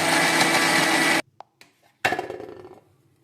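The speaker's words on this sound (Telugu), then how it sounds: "ఇవన్నీ మిక్సీకి పట్టుకున్నాక" A kitchen mixer grinder whirs loudly while grinding nuts, seeds and cardamom, then stops with a few small clinks and restarts in a short burst before winding down.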